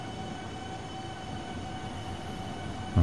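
A train running on track in the Train Fever video game, a steady, continuous rolling rumble with a faint tonal hum, alone and unchanging throughout.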